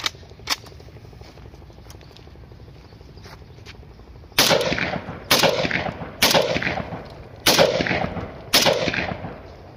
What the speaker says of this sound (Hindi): अभी टेस्टिंग फायर कर रहे हैं। पहले सिंगल करेंगे